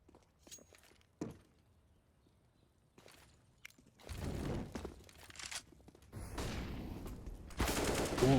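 Gunfire in a Counter-Strike match on the Inferno map, scattered shots and short bursts, sparse at first and then denser and louder toward the end, with no talking.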